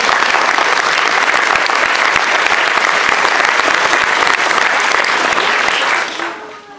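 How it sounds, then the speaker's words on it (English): Loud, sustained applause from a school audience at a primary school nativity for the children, continuous dense clapping that tails off in the final second. "Can we give them a big round of applause as well?"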